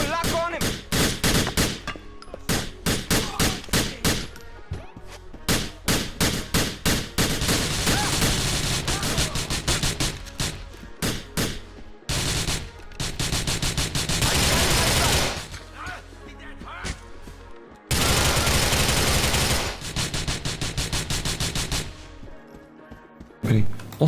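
Rapid bursts of AK rifle fire in Grand Theft Auto IV, with loud automatic volleys and single shots repeating through the stretch, broken by short pauses and a few gaps.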